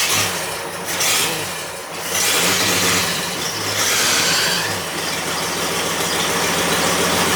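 An old, oil-burning Jeep engine idling cold and barely staying running, a loud, close, rough rumble with uneven surges.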